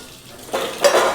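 Dishes, pots and pans being washed by hand in a home kitchen, with a couple of short clattering scrapes of metal vessels close by, the second louder, and no talking.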